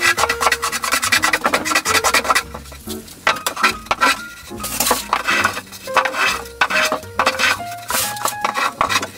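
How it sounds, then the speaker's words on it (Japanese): A Japanese hand plane (kanna) shaves a protruding edge of a wooden roof piece on a handmade cage, giving repeated scraping rasps close by over steady background music. "ここをね、カンナで削って、この面に合わせていきたいなと思います。"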